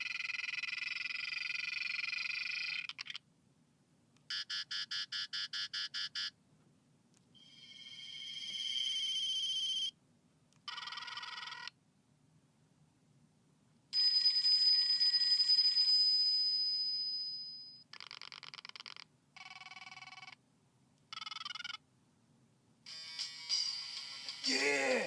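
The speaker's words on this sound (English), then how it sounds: "polyphonic ringtones, I told you." A series of polyphonic ringtones previewed one after another from a phone's sound settings, each a short electronic melody of chirps and tones separated by brief silences, fairly faint.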